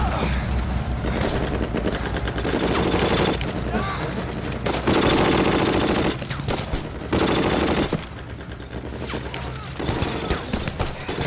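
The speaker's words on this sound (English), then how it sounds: "Machine guns, open fire." Sustained heavy machine gun fire from a Band of Brothers battle scene at Bastogne, dense rattling bursts with explosions and battlefield clamor, loud and continuous throughout with occasional shouting voices mixed in.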